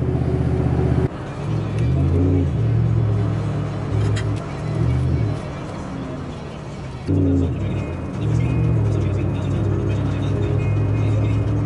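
A car driving on the road, a steady low engine and road rumble inside the cabin, with a short break partway through and a voice talking over it.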